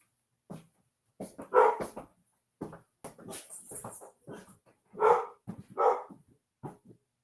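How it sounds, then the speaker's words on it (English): A dog barks at a house door in a series of separate nearby barks and yips with short gaps between them, mixed with some whimpering, and no one talks. "That would be the dog at my door going to my door"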